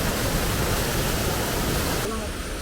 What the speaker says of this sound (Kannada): ಇದು ಪ್ರೈವೇಟ್ ಪ್ರಾಪರ್ಟಿ ಒಳಗಿರುವಂಥ ಜಲಪಾತ.